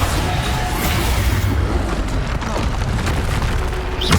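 Repeated Bombarda explosion spells from the Hogwarts Legacy video game, a dense run of booming blasts with crackling debris over a continuous loud rumble, no pause between impacts.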